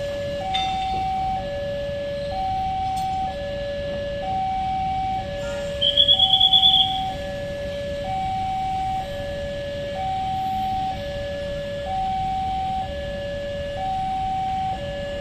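A feeder train passes, its steady two-tone horn alternating in a repeating pattern over a low rumble of rail traffic, with a brief higher whistle partway through.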